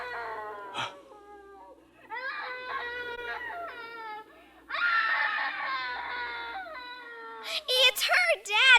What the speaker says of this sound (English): It's the screaming woman.